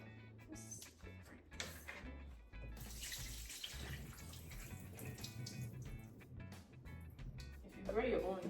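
A kitchen tap runs while supermarket produce is washed, a continuous splashing stream with handling noises and water shifting in pitch, with a person talking over it.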